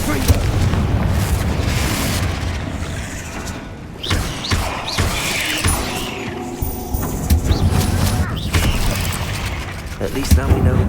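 Confringo fire spells exploding in Hogwarts Legacy combat: repeated booming fiery blasts and thuds, some sharp and close, layered over a rumbling battle backdrop with other spell effects throughout.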